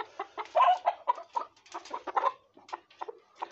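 A native desi hen clucks close by in a run of short, irregular clucks with brief pauses between them, moderately loud, with no talking.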